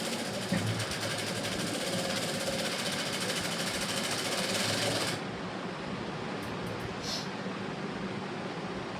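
Sewing machine stitching an aari work blouse, a fast buzzing mechanical chatter that runs loud and steady, then stops abruptly about halfway, leaving quieter room noise with a couple of faint brief clicks.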